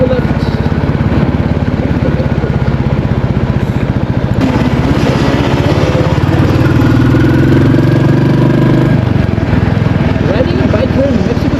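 A Royal Enfield Classic 350 engine thrums steadily and loudly throughout a ride through Mexico City, its low throbbing rumble continuous, with someone talking over it.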